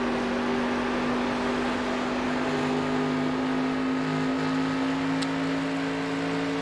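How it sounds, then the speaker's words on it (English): Race car engines in a Tuesday Night Racing Series all-star race drone steadily and loudly with a sustained, even pitch, running continuously without a break or any voices. "I love the sound of these cars again"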